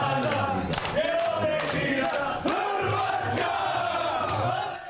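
Dense crowd of Croatia football fans cheering and chanting together at a match, a loud sustained roar of many voices with rising shouted calls throughout.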